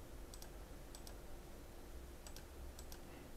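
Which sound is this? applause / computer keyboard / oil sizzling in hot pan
computer keyboard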